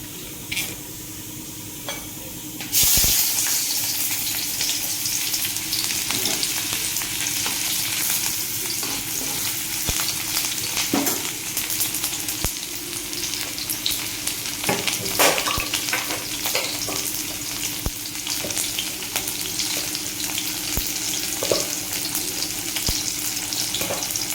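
Steady, dense sizzling of cumin seeds frying in hot oil in a wok for bitter gourd curry, with occasional crackles and stirring clinks, close and continuous throughout.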